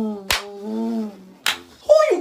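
Two sharp, loud hand claps ring out about a second apart, set between stretches of voiced speech from a person in a comedic skit.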